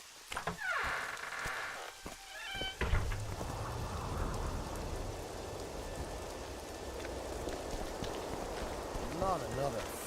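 Rain falling in The Witcher 2, a steady hissing downpour that swells after a few seconds of clattering game sounds and carries on to the end.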